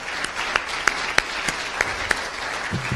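The tail end of audience applause at a Des Moines community event: a handful of separate, sharp hand claps in a loose, slowing rhythm, fairly close and distinct against a soft room murmur.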